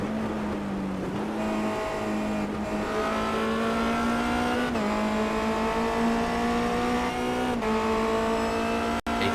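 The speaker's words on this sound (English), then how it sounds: "Let's just listen to Manu Reolago and his engine as he tries to catch the car of David Soranzo." A Formula Renault 2.0 race car at Brands Hatch howls at high revs, its engine note rising through each gear and dipping briefly at the shifts, loud and continuous.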